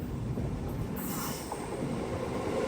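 A goods train rolls past a level crossing in India, heard as a steady, close rail rumble with rattling wagons and a bright metallic wheel squeal rising partway through, continuous and without talk.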